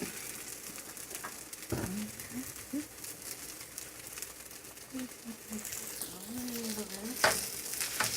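A Salisbury steak patty in a frying pan gives a soft, steady sizzle with occasional scrapes and clicks of a utensil, heard close and moderately quiet.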